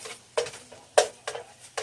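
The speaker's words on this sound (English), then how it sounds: "now that our meat is nice and brown, it's drained, it's sizzling hot" Browned, drained ground beef sizzling in a hot pan while being stirred, with sharp scraping and clinking strokes at irregular intervals over a faint low sizzle, close and alone.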